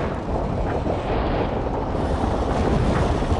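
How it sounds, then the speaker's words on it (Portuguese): Explosion in the PS2 video game The Matrix: Path of Neo, a sustained loud roaring rumble with dense crackling debris, filling the whole stretch without pause and with no talk over it. "a gente vai subir e vai fazer uma explosão"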